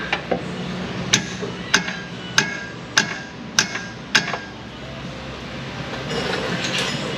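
Hammer blows on a steering system part of a 2011 Toyota RAV4: about seven sharp metallic strikes land at a steady, roughly even pace, close and loud, over low workshop hum, ending in a brief noisier rustle.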